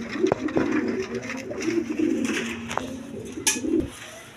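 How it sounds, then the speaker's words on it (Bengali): A pair of pigeons coo close by in soft, throaty repeated phrases, with small rustles and taps among them and no voices. "দর্শকবৃন্দ, এখানে এক পেয়ার কবুতর আছে"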